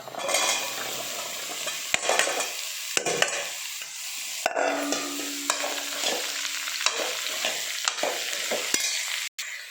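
Bottle gourd with curry leaves frying in a pan, with a steady sizzle and repeated close scrapes and taps of a spatula against the pan as it is stirred, no talking.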